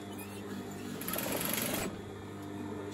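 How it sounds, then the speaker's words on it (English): A sewing machine runs steadily through fabric while stitching a simple hair tie, a short close burst of motor whir rising in the middle of a quiet room, with no one speaking. "I'm going to stitch to the end again"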